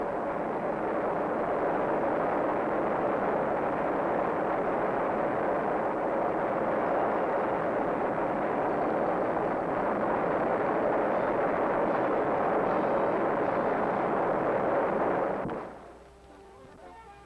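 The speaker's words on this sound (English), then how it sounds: "the sound of industry and progress in this community is the bellow of a rocket motor" A massive, continuous roaring blast of a rocket motor test firing at Redstone Arsenal, Huntsville, rumbles at full strength for about fifteen seconds, then cuts off abruptly into quiet.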